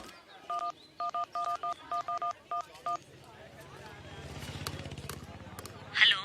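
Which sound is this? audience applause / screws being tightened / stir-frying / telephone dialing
telephone dialing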